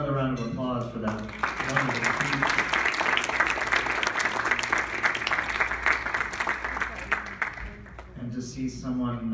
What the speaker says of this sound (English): Let's have another round of applause for that.